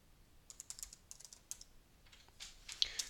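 Typing on a computer keyboard while writing a Word 2007 document: short bursts of close, light key clicks with brief pauses, the last few strokes slightly louder, and no talking.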